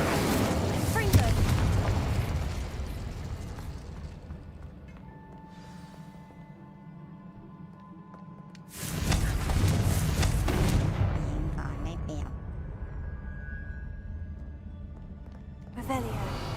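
Confringo blasting spell explosions in a Harry Potter video game: loud booming bursts with long rumbling decays, one at the start, another near ten seconds and a third at the end, separated by quieter ringing stretches.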